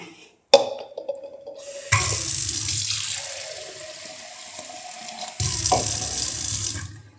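Water is poured into a kitchen mixer jar of ground ingredients while cooking, with two close, steady splashing streams separated by a brief pause and a single sharp clink at the start.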